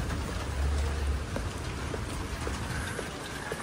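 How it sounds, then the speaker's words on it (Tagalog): Heavy rain from a storm pours down steadily in Las Piñas, a dense continuous hiss with scattered drop impacts and no talk. "Bumuhos na yung ulan."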